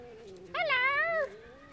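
A single cat lets out one drawn-out, wavering meow lasting under a second, fairly faint and close against quiet background hiss, during a tense encounter between cats and a West Highland terrier.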